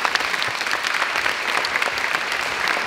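An audience applauds steadily at a Christmas celebration, a dense wash of many hands clapping at close range with no voices over it.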